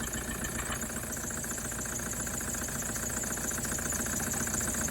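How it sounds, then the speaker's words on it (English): A Toyota Land Cruiser LC120 Prado 1KD-FTV diesel engine with a cracked piston idles with a steady, rhythmic chuffing knock, running continuously at close range with no voices. "everybody that watches 4x4 diesel knows that's a cracked piston."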